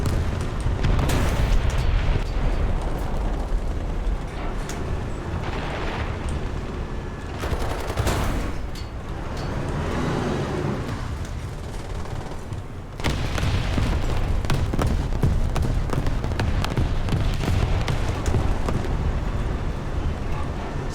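Tank cannon fire and explosions rumble through a War Thunder tank battle, with a dense, continuous barrage of booming blasts and rattling gunfire lasting throughout and swelling again near the end.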